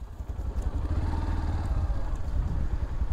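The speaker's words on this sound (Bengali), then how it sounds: "ওই যে ভাইয়েরা বাইক নিয়ে আসছে ঘোরার জন্য" Motorcycles pull up at Guliakhali sea beach, their engines giving a close, steady mid-pitched rumble with a faint clattering pulse for several seconds and no voices over it.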